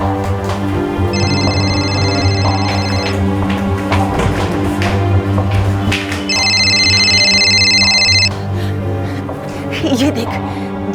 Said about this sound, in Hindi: माँ, ये फोन किसका बज रहा है? शायद बाथरूम से आवाज आ रही है।